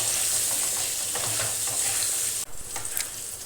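Potatoes fry in oil with a steady close sizzle while a utensil stirs and scrapes. The frying sound drops off sharply partway through, leaving fainter clinks and stirring.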